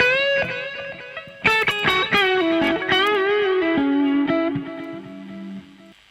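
An electric guitar runs through an amp plugin with a compressor and a basic Logic delay, playing a short, clean-edged melodic phrase whose notes ring out and echo in repeating trails, heard alone.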